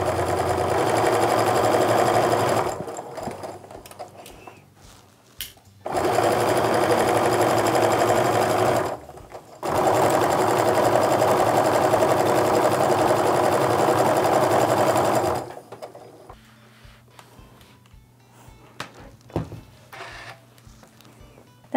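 A sewing machine stitches a quilt block seam in loud, steady whirring bursts, three long runs separated by short stops, followed by quieter clicks and fabric handling.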